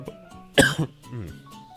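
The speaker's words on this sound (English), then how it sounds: "Not sure why I'm suddenly coughing," A single sharp cough up close, followed by a throaty rasp and a faint trailing vocal sound.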